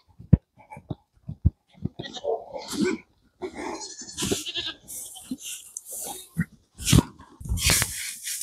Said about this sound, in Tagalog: Pakain muna tayo ng baboy natin.